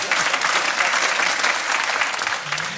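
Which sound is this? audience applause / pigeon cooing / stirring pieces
audience applause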